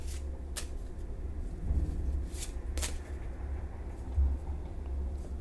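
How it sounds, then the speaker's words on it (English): Tarot cards are shuffled by hand in a quiet indoor setting, soft papery riffles and sharper snapping flicks coming in irregular bursts close to the listener, with no voices. "Spirit says no more shuffling."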